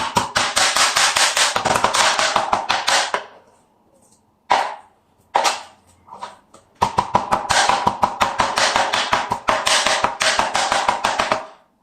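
Meat is chopped by hand into keema mince with a knife or cleaver, rapid heavy blows hammering on a board in long fast runs, broken by a short pause with a few isolated chops before the steady chopping resumes.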